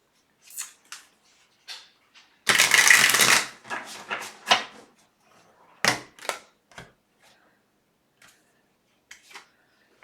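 Tarot cards shuffled and handled for a daily reading, with one loud, close riffle of papery flutter in the middle and scattered sharp card flicks and taps before and after across otherwise quiet moments.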